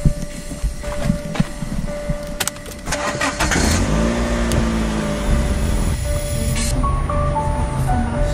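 A Dacia Sandero starts up and pulls away, its engine rising into a steady rolling hum with shifting tones as it gains speed, heard from inside or close by with no talk.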